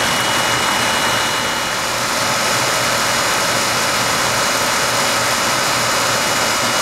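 A 2004 Carrier 3-ton standard-efficiency heat pump with a reciprocating compressor runs outdoors, giving a loud, steady, unbroken mechanical drone with a low hum and broad whooshing airflow, with no talk.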